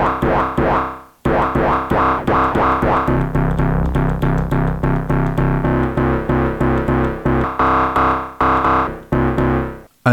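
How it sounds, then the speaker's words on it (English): A heavy, gnarly FM synth bass on an Elektron Digitone II plays a fast rhythmic sequence of short, punchy, distorted notes, loud and upfront with no talking. "I think you can create some heavy, gnarly, nasty bass sounds like this."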